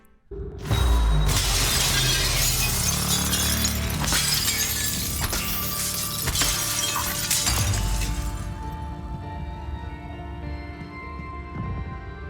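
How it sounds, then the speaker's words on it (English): Glass smashing in the video game Prey: a loud shattering crash of an apartment window followed by several seconds of tinkling, scattering shards and debris that slowly fade, with no voices. "Smash the glass to our apartment and it was a simulation."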